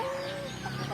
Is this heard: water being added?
no